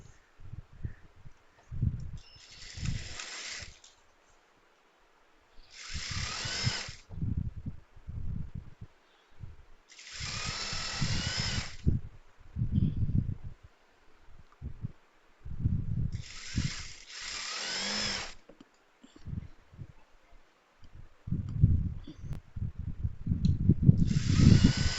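Sewing machine double-stitching a frock seam, running in repeated bursts of a few seconds each, separated by quiet pauses and softer handling noises, close by.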